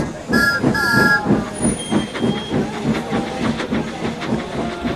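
A steam locomotive chuffs into motion with hissing steam, a short two-note whistle at the start, and rhythmic puffs building steadily.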